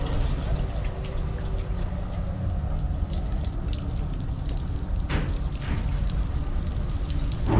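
Tap water runs steadily while feet are washed at a wudu station in Abu Dhabi, a continuous close splashing hiss with faint background voices.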